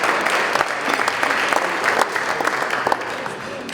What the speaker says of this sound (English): Big round of applause for Al.